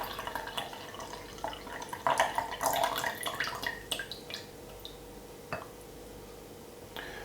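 Lemon juice is poured into a glass, a trickling, splashing stream with a few bright drips and clinks that swells in the middle and then thins to scattered drops.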